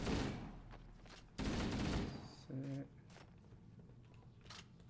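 Halo: Combat Evolved Anniversary gunfire, heard as several loud broadband bursts. A sustained volley opens the clip, a second heavy burst follows, and a shorter tonal shot comes after. Quieter game ambience carries on underneath.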